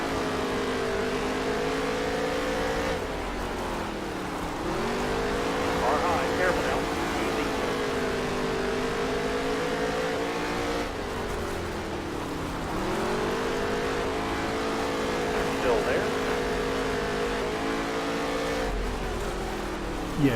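Simulated NASCAR race car engine roaring at full power on a Las Vegas dirt track in NASCAR Heat 3, revving up and down in long cycles with a steady loud drone and faint speech-like sounds in the background.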